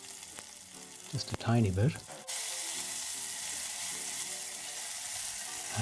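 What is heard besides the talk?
chili pepper frying in pan for plant-based burger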